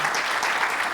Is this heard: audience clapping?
yes